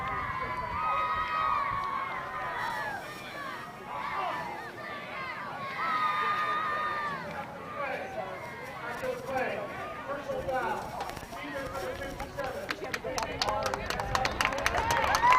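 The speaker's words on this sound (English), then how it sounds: "Youngsters in the stands cheering on their dads." Young spectators in the stands at a Copper Bowl football game cheer and clap in a busy mix, with whoops and babble rising and falling and a commentator's voice running over the noise.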